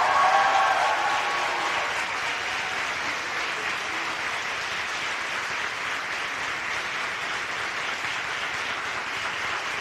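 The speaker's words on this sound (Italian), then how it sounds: "Facciamo un grande applauso." Conference audience applause, dense continuous clapping from a crowd that starts loudest and holds steady for about ten seconds.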